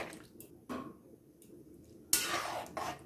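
Cauliflower curry being stirred in a pot after salt goes in, with soft clinks of a spoon against the pot, wet squishing and faint dripping in short separate bursts, the loudest one near the end.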